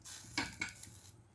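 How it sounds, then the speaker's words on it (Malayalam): A spoon stirs ginger curry in a pot, giving two sharp metallic scrapes and clinks against the pan over a faint simmer, quiet and close. "നല്ലപോലെ ഇളക്കി"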